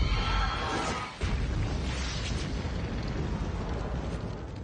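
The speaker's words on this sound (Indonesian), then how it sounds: "Dan akhirnya Ratu Tao Te pun meledak" The monster queen explodes in the film The Great Wall, a massive roaring blast that breaks briefly, then surges into a long, dense rumbling roar of debris and fire that stays loud and sustained.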